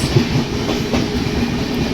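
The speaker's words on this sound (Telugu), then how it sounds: "Crossing with Kanyakumari Dibrugarh Vivek Express, which is running late by 2 hours." The Kanyakumari Dibrugarh Vivek Express, running two hours late, rolls past close by with a loud, steady rumble and rhythmic clickety-clack of wheels over rail joints.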